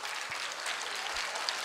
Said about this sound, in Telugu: మీకే గట్టిగా చప్పట్లు కొడదాం.